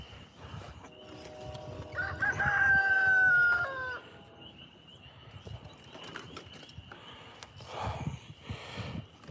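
A rooster crows once, a long harmonic call rising then holding, amid quieter background farmyard noise and faint rustling.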